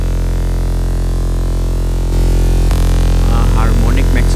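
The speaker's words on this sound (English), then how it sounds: "I added a saturation" Saturated synth bass from an FL Studio future rave track, a thick buzzing sustained tone that swells louder midway, then gains a gritty higher layer of chirpy harmonics toward the end.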